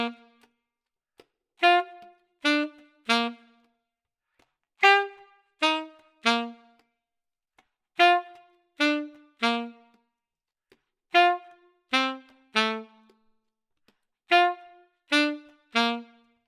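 A plucked instrument strums a 1-1-4-1-5-1 chord progression, with short, crisp chords struck in groups of three separated by brief silences, close and clear with no talking.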